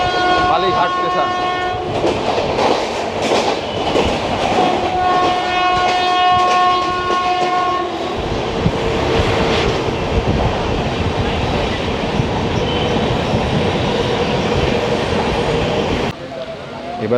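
The Darjeeling Mail passenger train runs at speed with a continuous loud rumble and wheel clatter, while its horn sounds in long blasts for the first half; a voice speaks over it.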